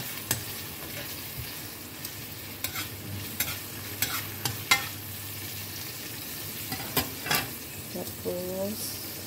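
Onion sautéing for chicken adobo gives a soft, steady sizzle in a pan, broken by scattered clicks and scrapes of stirring, fairly quiet and close with no talking.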